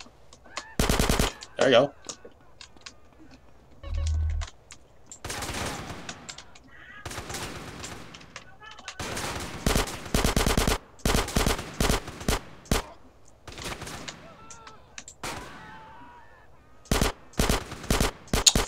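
Repeated bursts of gunfire from GTA San Andreas, with loud sharp shots and rapid volleys arriving in irregular clusters, mixed with game sounds while someone talks briefly.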